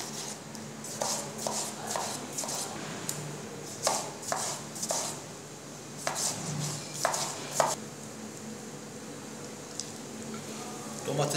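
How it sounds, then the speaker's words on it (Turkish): A knife chops peppers and tomatoes on a board for eggplant kebab, with bursts of quick, crisp taps separated by short pauses, close and fairly quiet against a soft kitchen background. "Şimdi üzerine biberimizi, domatesimizi doğrayacağız."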